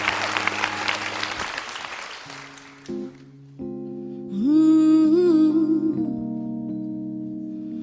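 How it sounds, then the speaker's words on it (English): Audience applause at a live spring show, a dense crowd clapping that fades out, followed by sustained music tones rising in level. "Please give a round of applause to my babies and also Louis"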